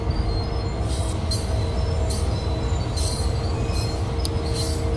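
Diesel freight train in Train Sim World 2, an SD40-2 locomotive on the Sherman Hill line: a steady, loud rail rumble with rolling wagon noise and repeated high wheel squeals rising over it, no talking.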